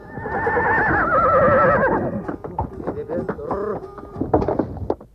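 A horse neighs loudly in a long whinny, then hooves clip-clop and snorts follow up close, as part of a staged audio theatre play with no speech heard.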